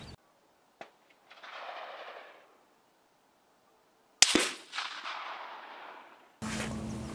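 Gunshots ring out at an outdoor shooting range during a rifle accuracy test: a sharp crack near the start, then a louder report around four seconds followed by a decaying rumble, with no talking.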